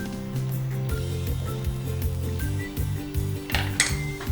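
A spoon clinks and scrapes around a metal pot of Karnataka-style potato saagu for puri, several light knocks over a steady background musical drone.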